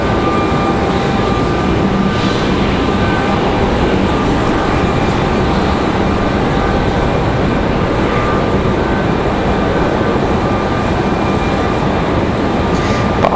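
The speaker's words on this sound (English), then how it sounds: "E175 slinking through the taxiways here, headed out to the end of the runway" An Embraer E175 jet taxis along the taxiways toward the runway end at Raleigh-Durham International Airport, a steady, continuous broadband engine roar and hiss with no break, fairly loud and even throughout.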